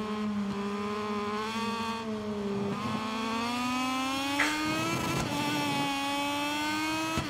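A racing motorcycle engine in MotoGP 23 hums at a high, steady pitch, then climbs in pitch as the throttle opens. It sounds loud and close, with no talking.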